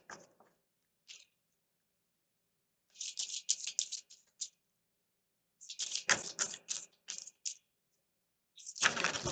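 Tarot cards being shuffled by hand in bursts of crisp riffling and rapid flicking, separated by silent pauses, close and fairly quiet with no talking.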